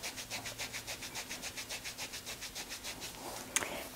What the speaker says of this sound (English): Rub that in.